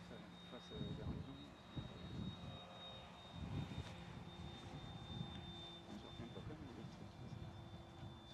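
A model airplane, a Cub, taking off near a house: a faint, steady electric motor whine carries throughout, with wind buffeting and rustle over it and a distant voice or two underneath.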